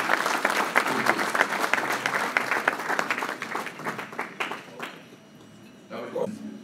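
Applause from a dinner audience at a Thanksgiving awards ceremony: dense, sustained clapping from a roomful of people that thins out and fades, followed by a brief murmur of voices.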